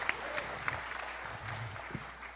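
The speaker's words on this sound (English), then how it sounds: "Round of applause, guys." Faint applause from a small audience at a speaking event, soft even clapping with a few sharper hand claps standing out and a low murmur of voices beneath.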